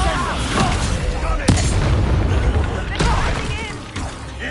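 A Bombarda explosion spell in the video game Hogwarts Legacy gives a few loud booming bursts inside dense battle noise, with voices shouting over the chaos.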